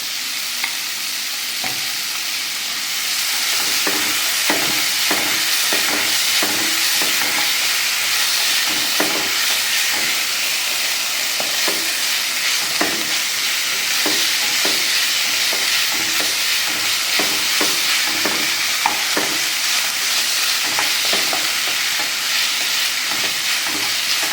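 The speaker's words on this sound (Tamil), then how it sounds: "வெங்காயம் நல்லா வதங்கிச்சு" Onions frying with a half teaspoon of ginger garlic paste in a pan, a loud steady sizzle and hiss with repeated stirring scrapes throughout, no talking.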